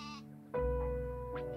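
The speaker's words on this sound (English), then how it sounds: "goat," A goat bleats twice, a loud wavering call followed by a shorter second bleat, close and alone with no talk.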